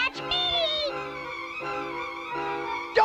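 Animated cartoon cat meowing in a drawn-out, wavering yowl that rises and falls over a few seconds, loud and close, with no talk over it.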